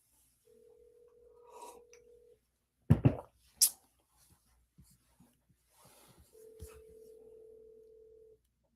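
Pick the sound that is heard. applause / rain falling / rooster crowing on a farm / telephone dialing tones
telephone dialing tones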